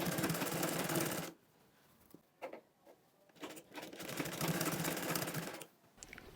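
A sewing machine stitches red ruffles onto fabric in two loud continuous bursts, separated by a quieter stretch of brief clicks and handling sounds.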